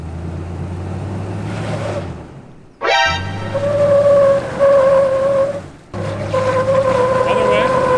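A Toyota off-road vehicle in Moab strains out of a drop, its engine droning loudly, cutting out briefly, then revving back up in bursts with a rising whine and wind rush.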